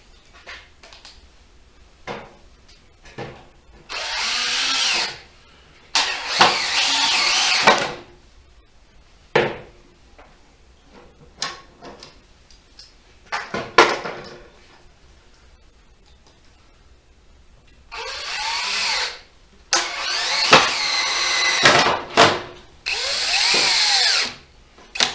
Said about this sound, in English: we're going to go ahead and drill these in